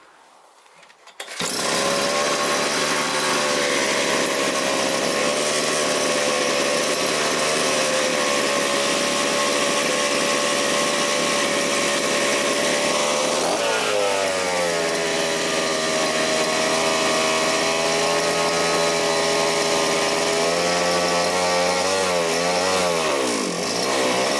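A gas brush cutter (string trimmer) starts and then runs at high revs, its loud engine whine steady for most of the clip, then wavering and shifting in pitch. The cause is a loose baffle. No one speaks.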